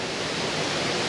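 Billy Brown's Falls in Tasmania, a waterfall cascading and tumbling through several drops toward a deep valley floor, gives a loud, steady broadband roar of rushing water, continuous and close with no voices.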